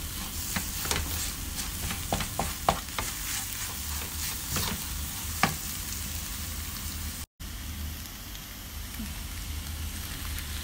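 Mushroom risotto with parmesan is stirred in a pan, a soft simmering sizzle with repeated scraping and clicking from a spoon, briefly cut off partway through.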